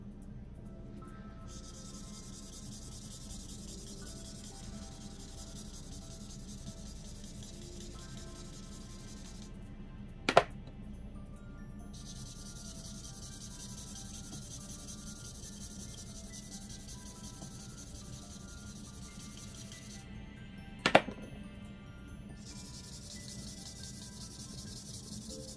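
ArtSkills markers drag across paper in a soft, continuous scratchy rubbing that is close and fairly quiet, broken by two sharp clicks about ten seconds apart.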